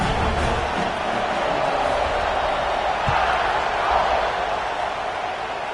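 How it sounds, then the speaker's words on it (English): Dense, steady roar of a stadium crowd in a college football video game, buzzing continuously at high level throughout with no clear pauses. "this crowd is buzzing after that last score"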